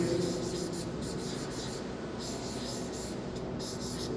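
A pen scratches across paper while an answer is written out on a class worksheet, with short, close strokes repeating in quick bursts over a steady low hum and faint voice.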